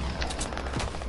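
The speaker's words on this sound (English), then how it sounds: "No shooting behind me, son." A quick burst of rapid gunfire in a video game, several sharp shots packed into about a second at moderate loudness.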